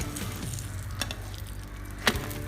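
Puran poli roasts on a hot griddle, a soft steady sizzle with a few light scrapes and taps of a spoon, close and continuous.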